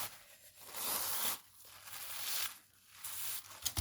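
A two-layer paper napkin with sellotape on its back is torn in slow, rasping pulls, three separate rips with short pauses between, close and fairly quiet.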